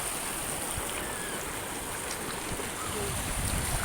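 Water rushing down a waterfall and stream, a steady, dense broadband roar that holds constant from start to finish with no breaks.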